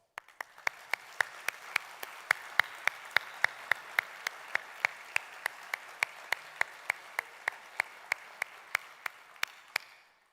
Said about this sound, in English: To you, a big applause.